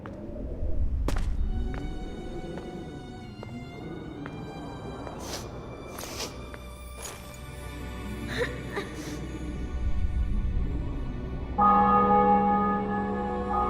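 Church bells in the video game The Witcher 2, a city and fortress being taken, ringing repeatedly over a low rumbling din, loud strikes and sustained tones building and continuing throughout.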